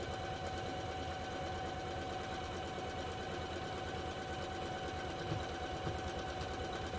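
A sewing machine, run at a turned-down speed, stitches quilt pieces for a spring picnic quilt top, giving a steady, continuous mechanical whir and rapid needle patter throughout with no talk.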